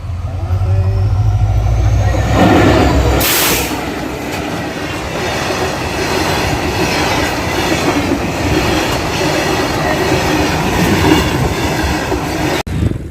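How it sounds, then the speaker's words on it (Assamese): A train rolls past on the railway beside a long-distance bicycle route, a loud, continuous rumble and clatter of wheels on track filling the whole stretch, with a brief sharper burst early on and no talking. "সেইখন দেখিছেনে, আহি আছে ট্ৰেইন"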